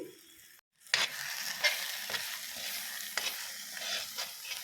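Spice paste with salt, turmeric and chili powder sizzles steadily in a pan, with several sharp scraping knocks as it is stirred, close and fairly loud, no voices.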